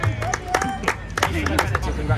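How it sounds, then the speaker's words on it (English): A crowd claps for the award-winning club stand at the Classic Ford Show 2024, with scattered sharp claps and cheering mixed under steady nearby speech and crowd babble. "I want to give a big classic Fords show round of applause for the Marcus Hayes stand"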